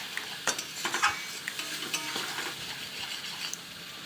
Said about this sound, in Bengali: জিরে মশলা ধরে আরও মরিচের গুঁড়ো দিয়ে কষা নিই।